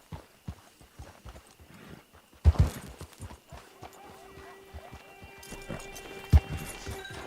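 Horse hooves clip-clop steadily at a walking pace in Red Dead Redemption 2, with a horse neighing and a couple of louder thumps partway through, over soft game ambience.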